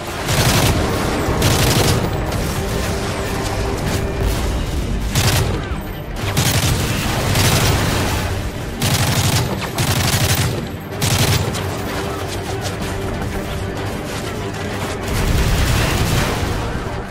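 Heavy gunfire from the video game Call of Duty: Modern Warfare 3 (Xbox 360): sustained loud automatic bursts and booming shots in rapid succession, broken by brief pauses, with a voice speaking in between.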